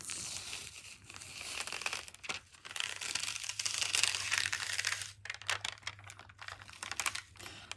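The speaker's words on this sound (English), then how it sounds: "So now the shirt's completely cooled off, and I'm getting ready to peel these off." Hotfix rhinestone transfer tape peeled slowly off a cooled shirt, giving a continuous crackling, crinkling rip that rises and falls over several seconds, close and fairly loud, with no talking.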